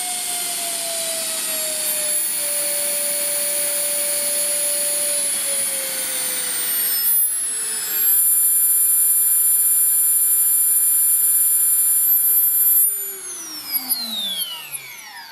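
An ALZRC 3800KV brushless helicopter motor paired with a 60A ESC whines steadily and smoothly, its pitch easing slightly lower partway through, then spinning down sharply at the end; loud and close with no talk.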